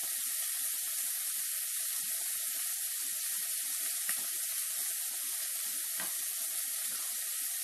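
Pork chops sizzle steadily in a hot skillet, a constant loud broadband hiss with scattered crackles and pops throughout, no talking.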